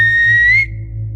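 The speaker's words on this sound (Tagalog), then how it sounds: "Mula sa malayo ay may narinig akong parang sumipol" A single sustained whistle, clear and steady with a slight upward bend near the end, heard over a low droning backdrop in a Filipino aswang horror narration about a dark tree-lined path.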